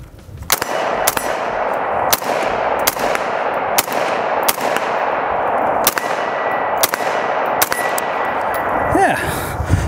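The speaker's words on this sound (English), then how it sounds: "Sig MCX. Let's go ahead and give this guy a couple of shots here. Unsuppressed, see how it feels." A Sig MCX rifle fires unsuppressed outdoors: about nine loud, sharp shots at a steady pace, each with a ringing, clanging tail and no talking between them.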